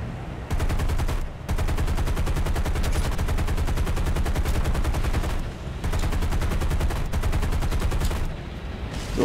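Explosions and heavy gunfire from bombs dropped by an American aircraft in War Thunder arcade battles, a dense continuous barrage of rapid shots and blasts with brief dips.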